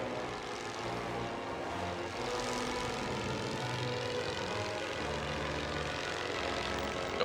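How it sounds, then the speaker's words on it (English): A propeller recon plane in the World War I strategy game Great War Western Front drones overhead, a steady engine roar holding at the same loudness throughout. "Just get all them in there while we have our recon plane go over."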